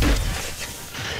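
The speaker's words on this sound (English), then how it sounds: "I just see my Benny blow up" A bouncing betty mine explodes in the video game Modern Warfare 3, a single loud, low boom that decays into a broad rumble over about a second.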